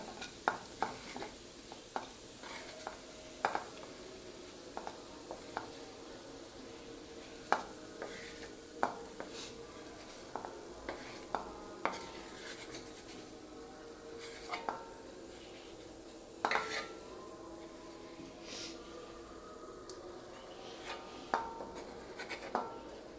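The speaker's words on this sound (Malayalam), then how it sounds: "ഇതൊരു ആറ് സവോള ഞാൻ വറുത്ത് പോരുന്നതാണ്" Six medium onions fry in a pan for biryani, a soft continuous sizzle punctuated by frequent scraping stirs and sharp spoon clinks against the pan, close and unhurried.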